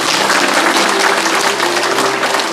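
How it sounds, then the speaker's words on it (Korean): A worship congregation claps together at a Korean veterans' joint service, a dense, continuous wash of applause that stays loud and even throughout, with no speech over it. "다 같이 하나님께 영광의 박수 올리겠습니다."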